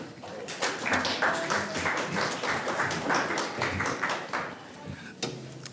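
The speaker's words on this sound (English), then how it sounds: "I am really glad that you applaud now." An audience at an art summit at Luckan in Helsingfors claps in steady, moderately loud applause that lasts several seconds and then fades quickly near the end.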